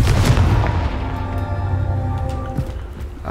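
A Confringo spell in Hogwarts Legacy bursts with a loud booming blast and a crackling explosive tail that fades over a few seconds.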